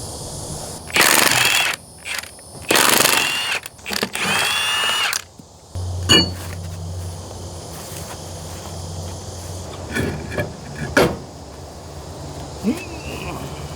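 A power tool zips off lug nuts from trailer tires in a rapid series of loud, close bursts, followed by clanks, thuds and footsteps as parts are handled.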